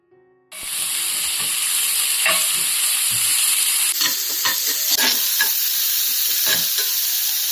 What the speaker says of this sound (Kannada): ಅದಕ್ಕೆ ಒಂದು ಬೌಲು ಚಾಪ್ಡ್ ಆನಿಯನ್ ಹಾಕೊಳ್ತಾ ಇದ್ದೇನೆ. ಇದಕ್ಕೆ 1 ಸ್ಪೂನ್ ಉಪ್ಪು ಹಾಕೊಳ್ತಾ ಇದ್ದೇನೆ.